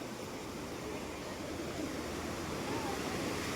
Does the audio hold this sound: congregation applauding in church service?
no